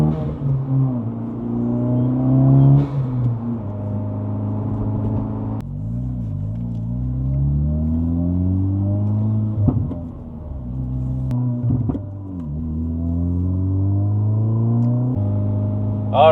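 A 2024 Acura Integra Type S (DE5) with a newly installed ACT six-pad sprung race clutch pulls away on a test drive, its engine droning and climbing through several gear changes, steady and close from inside the cabin.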